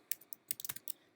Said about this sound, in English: So to install it, just type in npm install